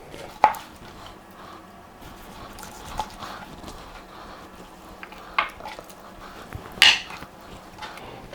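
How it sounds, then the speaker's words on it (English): A knife slices smoked ribs into individual riblets, giving sparse, soft cuts and occasional sharper knocks against the board, quiet and close with long pauses between strokes. "Now I'm gonna slice these ribs."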